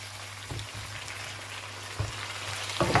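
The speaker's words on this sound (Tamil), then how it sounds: "கத்திரிக்காவை எண்ணெயில் நல்லா நம்ம வதக்கணும்" Eggplant sautés in oil in a pan, giving a close, continuous frying sizzle broken by a few soft scrapes and stirring knocks.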